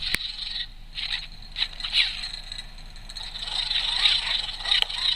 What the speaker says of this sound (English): I've downloaded a bunch of clickety-clack sounds and steampunk sounds